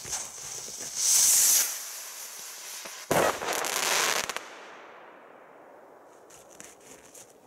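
A firework rocket hisses as it launches, then bursts with a sharp crack followed by crackling and a fading rumble, fairly close and loud.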